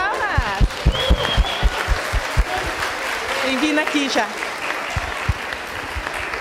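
Applause from an audience greeting a prize-draw winner at a university programme event, steady clapping running under a presenter's voice, with distinct louder claps standing out near the start and end.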